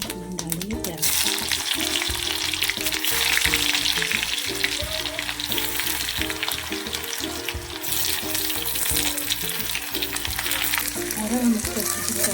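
Chopped onions sizzling in hot oil with cumin seeds in a home kitchen pan, a loud continuous fry with occasional stirring scrapes and a faint voice in the background.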